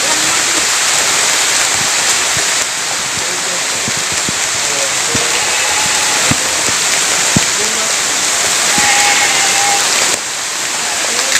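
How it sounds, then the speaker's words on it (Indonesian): Heavy rain pours down in a dense, loud, continuous hiss with scattered sharper drops spattering close by, and a voice speaks intermittently beneath the downpour. "Ini juga hujannya sudah mulai besar ya."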